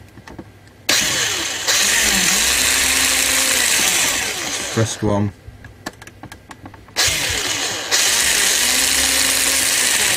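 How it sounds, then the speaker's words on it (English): Power drill boring holes into an Amiga 600 computer case, with two long loud bursts of whirring broken by a pause with clicks and handling noises, and brief speech in between. "We'll drill two holes."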